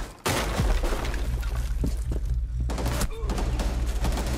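Rapid gunfire in the video game Rainbow Six, loud bursts of shots and a sharp crack of impact rattling close by, with brief gaps between volleys.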